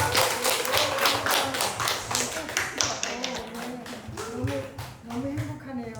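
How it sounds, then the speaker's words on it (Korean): A seated audience at a lecture on women's health and childbirth gives sustained applause to welcome the speaker, a steady dense roar of many hands clapping throughout, with voices audible beneath. "큰 박수로 맞이해 주시기 바랍니다"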